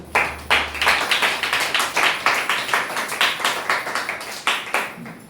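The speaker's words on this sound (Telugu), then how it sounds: "చప్పట్లు కొట్టండి" A church congregation claps hands together in a steady, rhythmic beat, about three claps per second, loud and close with no talking over it.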